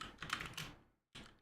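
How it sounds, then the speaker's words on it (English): Close, quick one-handed typing on a computer keyboard, a dense flurry of clicky keystrokes that stops briefly and then resumes. "you're really challenging my one-handed typing right now"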